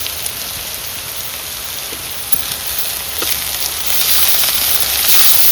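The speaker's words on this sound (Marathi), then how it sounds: "ह्याच्यात टाकतोय टोमॅटो" Tomato goes into softened onions frying in a pan for a village-style Malvani crab curry, producing a continuous loud sizzle and crackle close to the microphone that swells toward the end.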